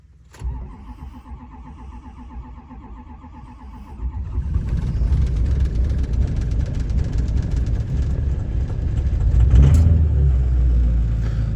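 A Ford 6.0 Powerstroke diesel pickup truck cranks briefly on a cold start, then catches and roars to life, settling into a loud, rough, clattering idle with a rev near the end.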